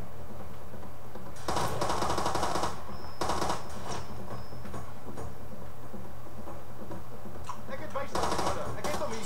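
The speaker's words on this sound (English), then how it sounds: "Getting shot at." Gunfire in Far Cry 2, rapid bursts of rattling shots arriving in a few separate clusters, fairly loud and close, with quieter gaps in between and some faint background activity.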